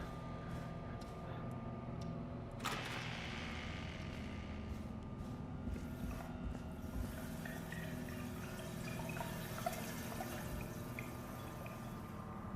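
Steady water dripping and trickling in the game Killer Frequency over a constant low hum, with a sharper splash partway through; ambient and continuous, no voices.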